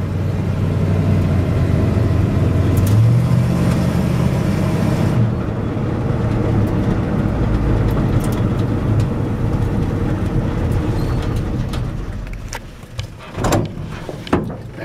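A 1957 Chevrolet 3100 pickup driving, its engine a steady loud rumble with road noise for most of the run, then tapering off toward the end with a few knocks and clunks.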